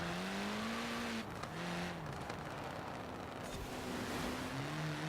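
Morris Minor car in Forza Horizon 4, its engine holding a steady tone that rises and dips as the car shifts and accelerates, loud and continuous with road and tire noise throughout.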